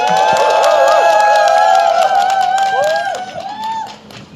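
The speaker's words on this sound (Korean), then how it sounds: "박수와 함성으로 맞이해 주십시오." An outdoor labour rally crowd greets a union branch leader with loud, sustained cheers and shouted calls over scattered clapping. The noise tapers off toward the end.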